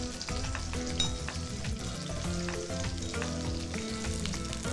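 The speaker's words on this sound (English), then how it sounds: "give it a stir" Garlic shrimp with paprika sizzling in a pan, a dense, steady frying hiss with light stirring clicks underneath, close and continuous, no talk.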